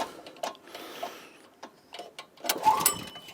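A garden tiller that won't start gets a sharp pull on its starter cord, making a quick rattling, whirring burst. Fainter scraping and clicking come before it in an otherwise quiet yard.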